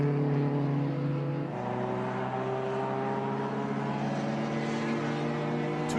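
Vintage SVRA race cars from Groups 3, 4 and 5b run at Watkins Glen in 2021, producing a steady, droning engine note that holds loud and unbroken with no voices over it.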